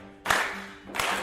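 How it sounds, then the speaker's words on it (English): Two loud bursts of clapping from a group of people at an energizing session, each a dense wash of hand claps lasting about half a second. "So I want everyone to start clapping."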